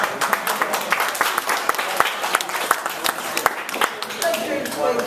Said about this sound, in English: A round of applause for Hannah